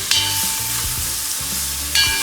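Ginger and garlic paste fries steadily in a pan for a Dak Bunglow chicken curry, a continuous loud sizzle with brief stirring scrapes near the start and end, no talking.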